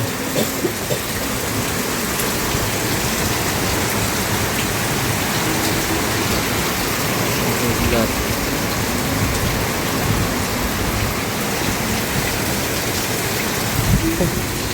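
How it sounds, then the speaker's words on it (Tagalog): Heavy typhoon rain pours down in a constant dense hiss, steady and loud throughout, with occasional sharper drips and splashes. "Sobrang lakas ng ulan."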